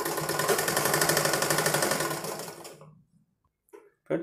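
A sewing machine stitching thread piping onto a blouse neckline runs in a loud, fast, even rattle for almost three seconds, then stops, followed by a few brief handling knocks.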